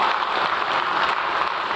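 A crowd claps steadily throughout, a dense, even patter of many hands with no pauses and no voices on top.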